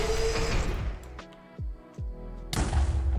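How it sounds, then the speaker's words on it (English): A wither explosion in Minecraft: a couple of muffled game thumps followed by a sharper, louder burst of blast noise. "That explosion still sucks though."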